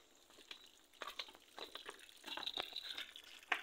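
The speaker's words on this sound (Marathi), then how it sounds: "छोटे छोटे पाण्याचे स्त्रोत" Small water streams trickle along a fort trail on Kothaligad, soft irregular dripping and splashing that comes close and faint, with a few sharper splashes near the end.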